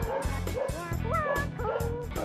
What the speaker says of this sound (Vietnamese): Chó, chó nè, chó nè.